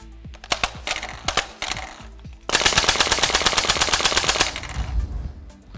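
Simulated .50 cal machine gun firing in a training simulator: a few short bursts of sharp rapid shots, then a sustained loud burst of about two seconds, close and unaccompanied by talk.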